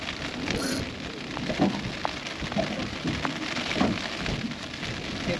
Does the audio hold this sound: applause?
no